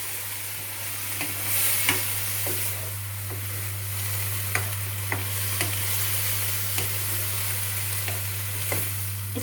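A spicy tomato mixture sizzles steadily in a pan while a spoon stirs it, with scattered scraping knocks against the pan over the constant frying hiss and a low hum.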